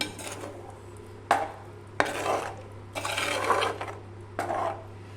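A spoon stirs tamarind water into a crab curry masala in a pan, producing four distinct scraping, sloshing bursts of stirring with short pauses between them, close and moderately loud.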